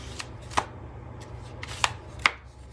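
Tarot cards from a Yummy Tarot deck being shuffled, heard as a few sharp, quiet riffling snaps spaced apart over a low steady background hum.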